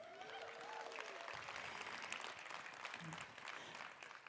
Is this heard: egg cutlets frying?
no